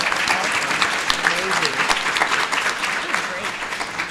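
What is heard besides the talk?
audience applause for panel of women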